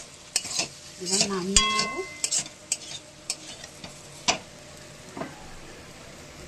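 Kochur loti (taro stolons) being stirred in a frying pan, with soft scraping strokes and a faint sizzle underneath, a few sharp utensil clicks, and brief speech near the start.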